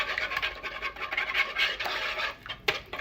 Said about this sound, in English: you're going to whisk that together